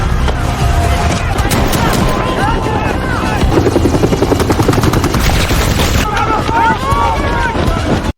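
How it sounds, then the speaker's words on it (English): Two rescue helicopters arriving in an action movie hostage rescue, a loud throbbing rotor roar with bursts of gunfire and music mixed in throughout. "suddenly, 2 helicopters arrived that were assigned to rescue the hostages"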